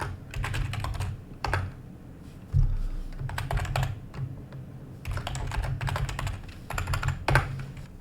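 A password typed on a computer keyboard, with bursts of quick close key clicks separated by short pauses and heavier keystrokes between them, heard alone with no speech.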